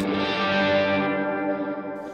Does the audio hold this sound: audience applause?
no